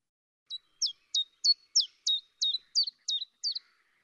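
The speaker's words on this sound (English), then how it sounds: "That distinctive, quite metallic, two notes, chiff chaff, chiff chaff." A chiffchaff sings its metallic two-note song, a clear, close series of about ten sharp, evenly spaced chirps alone against silence.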